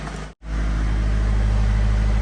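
Mercedes diesel engine idling steadily after an AdBlue and NOx sensor reset, a low constant hum after a brief dropout at the start.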